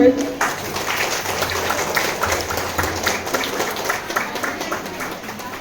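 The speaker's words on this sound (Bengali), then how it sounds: "সকলে একটু হাততালি দেবেন" An audience at a Safe Motherhood Day women's gathering claps to welcome a member, a dense patter of applause running steadily for several seconds and fading toward the end, with a voice speaking over it at the start.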